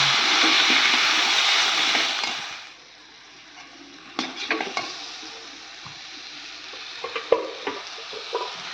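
Spices and chili powder sautéing in a pan: a loud, hissing sizzle for a couple of seconds that drops to a quieter fry, broken by scattered clicks and scrapes of a spoon stirring against the pan.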